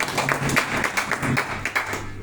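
Clapping from a meeting audience in Naugachia, Bhagalpur, a steady patter of many hands at moderate distance, with faint voices mixed underneath and no pause across the short stretch.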